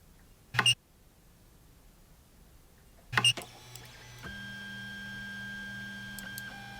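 Ender 3 3D printer homing its axes after a Y-axis linear rail install: two short sharp clicks of the end stops, then the stepper motors whine in a steady pitched hum that shifts tone partway.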